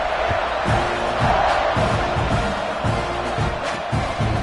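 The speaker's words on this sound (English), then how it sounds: "this crowd is buzzing after that last score" A football stadium crowd at a Mizzou game hums with a loud, steady roar and scattered shouts after a score, the wash of voices filling the space without pause.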